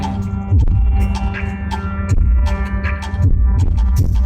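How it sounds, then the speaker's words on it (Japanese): A loud, deep, throbbing pulse repeats in a slow heartbeat-like rhythm, booming over a sustained low hum, at a fashion show runway during Rakuten Fashion Week Tokyo. "すごい心臓の音みたいなやつがめちゃめちゃでかい。"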